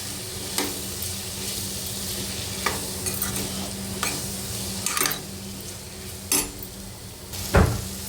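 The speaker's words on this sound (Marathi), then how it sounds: "या भाज्याही आपल्याला व्यवस्थित परतून घ्यायच्या आहेत मसाल्यासोबत" Washed vegetables are sautéed with spices for veg pulao, a soft continuous sizzle broken by periodic spoon scrapes and light clanks against the pot, fairly quiet with no talking.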